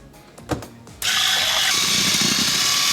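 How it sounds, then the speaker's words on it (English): An electric mixer whisks cracked eggs in a bowl for a sponge cake in a cake factory, starting abruptly with a loud, steady whirring drone after a quieter moment of handling noises. "Whisk the eggs for 4 minutes."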